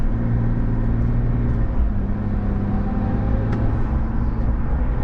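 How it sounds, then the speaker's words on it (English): A 2025 Chevy Silverado with the 3.0L LZ0 Duramax turbodiesel drives with a loud steady engine rumble and road noise, a faint turbo whistle riding above the drone throughout. "You can hear the turbo whistles"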